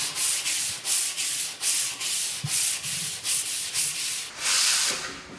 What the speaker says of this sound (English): I'm just gonna give this a nice light sanding.